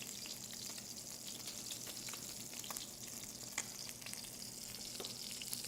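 Oil sizzles quietly in a pan at the start of cooking Thai sweet and sour vegetables, a soft continuous frying hiss with occasional light pops and stirring clicks and no talking.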